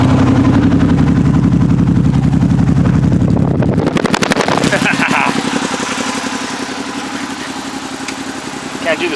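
A car engine with a freshly bled cooling system runs loud and close, a steady rumble building into a sharp rev, then easing back to a rougher, throbbing idle as the revs fall away.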